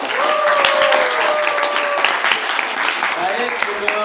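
A classroom full of students claps together steadily through the whole stretch, a dense, even wash of hands with a few voices mixed in.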